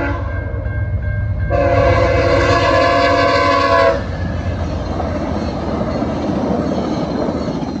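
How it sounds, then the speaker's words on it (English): A Via Rail passenger train with a P42 locomotive and four LRC coaches clears a level crossing at night; a loud, sustained multi-tone horn blast sounds near, then the steady roar and rumble of rolling coaches continues. "Via 78 finally clears the crossing after 9:30 p.m. with P42 DC 911 solo and four LRC coaches"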